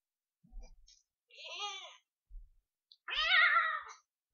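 Meows from a cat in the video game Minecraft come as several short separate calls, the last one longer and louder, close and clean against silence.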